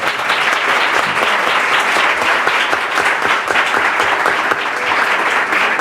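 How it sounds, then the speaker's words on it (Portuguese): A lecture audience gives sustained, steady applause for a speaker at the close of a talk, dense clapping at full volume throughout with no speech over it. "a Paula Brandão, a quem eu peço uma salva de palmas."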